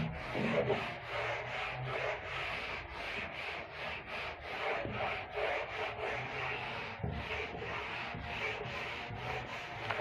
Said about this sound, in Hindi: मैं कंप्लीट ही रब कर देता हूँ।